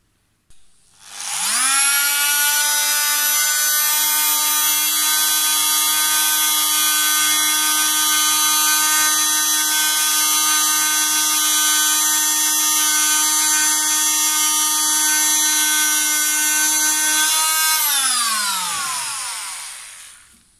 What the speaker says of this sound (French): on va poncer une surface brute.